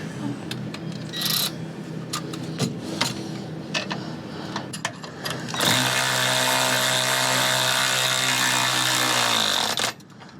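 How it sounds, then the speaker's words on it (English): An electric ratchet snugs bolts while installing a Kelderman dual steering stabilizer on a Ford Super Duty, with scattered clicks and clanks followed by a steady whirring run of about four seconds that stops abruptly. "Oh, I love an electric ratchet"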